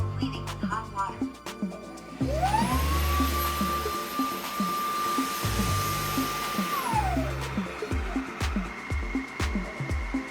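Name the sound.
Dreame H15 Pro dock self-cleaning roller with hot water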